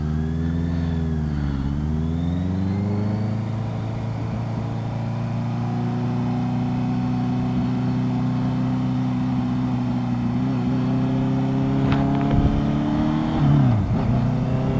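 Honda CBR650F motorcycle engine heard up close as the rider accelerates, its tone rising and then dipping at the gear changes, with a steady drone in between and a final sharp shift near the end.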